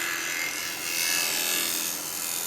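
A hollowing cutter scrapes inside a yew pot turning on a wood lathe, giving a steady, close, hissing rasp of shavings that swells slightly in the middle and continues without pause, with no voices.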